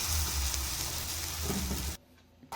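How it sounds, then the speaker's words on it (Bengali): Lentil fritters (bora) fry in hot oil with a loud, steady, close sizzle that cuts off abruptly near the end, leaving a brief quiet gap before the sound returns. "বড়াগুলো তেলে ভালো করে ভেজে নেব।"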